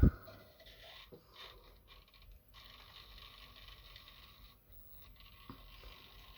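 A small servo motor driving model railway sliding doors whirs and ratchets with a gritty mechanical grind, starting with a click and running unevenly for several seconds before another click.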